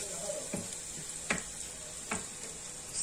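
Small batches of ujja, an egg-and-herb fritter, sizzle steadily in hot oil in a pan while a spatula stirs them three times, each stir giving a short scraping rustle over the constant frying hiss. No one speaks.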